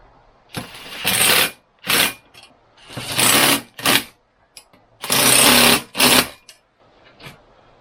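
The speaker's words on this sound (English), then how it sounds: "drive these down with a little impact driver" An electric impact driver on its lowest torque setting runs down bolts on a Polaris RZR seat install, firing in several short separate bursts of rattling hammering with near silence between, close and fairly loud.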